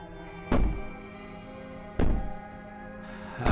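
Heavy bangs on a door in the game Slay the Princess, three loud separate thuds spaced about a second and a half apart, each ringing briefly over a quiet musical background.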